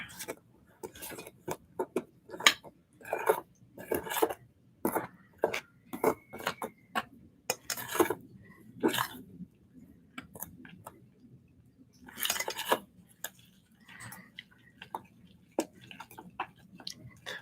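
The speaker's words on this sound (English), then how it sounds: "mix it together" A spoon mixing doughnut batter in a bowl, producing a steady series of close clicks, taps and scraping knocks in irregular rhythm, fairly quiet and heard alone.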